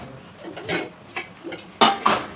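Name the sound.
pots and utensils being taken out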